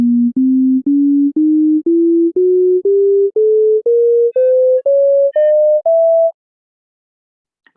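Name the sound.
tones played in the Bohlen-Pierce scale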